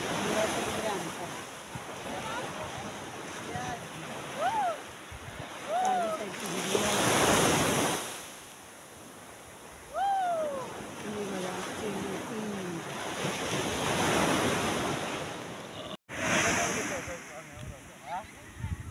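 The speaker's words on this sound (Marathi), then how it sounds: "आता आलो बघा, आमचा निवती समुद्र किती स्वच्छ आहे" Ocean surf rolls in steadily at Nivati Beach on the Konkan coast, with wind buffeting the microphone and surging waves rising and falling over about nineteen seconds, joined by scattered distant calls.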